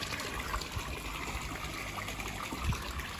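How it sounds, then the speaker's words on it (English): Water pumped from a main koi pond into small grow-on ponds pours steadily, a close continuous trickling gush with no talk. "pumping water from the main pond into the just the small grown ponds what I've got set up for this upcoming breeding season"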